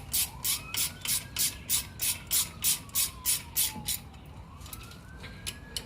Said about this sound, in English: Put them back in, and then just tighten them back up with the 17 millimeter.